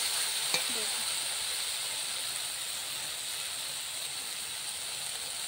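Spices for a Bengali fish curry sizzle and fry steadily in a pan, a continuous soft hiss throughout with a brief stir or clink near the start, close up and without talk.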